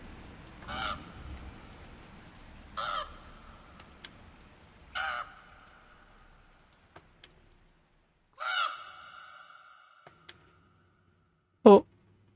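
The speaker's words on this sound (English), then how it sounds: "Crows." Crows in the horror adventure game The Last Door give a series of separate caws, a few seconds apart, over a soft rain-like ambient bed, followed by a sharp, louder cry near the end.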